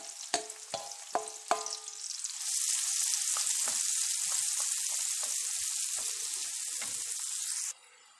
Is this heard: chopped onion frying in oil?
yes